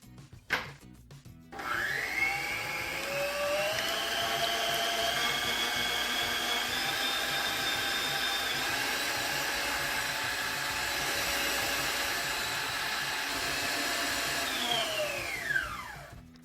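An electric mixer beats cake batter for a homemade gourmet cake, with a steady, loud, close whirring hum. It starts after a short clatter, holds for about fourteen seconds with a slight rise in pitch, then winds down at the end.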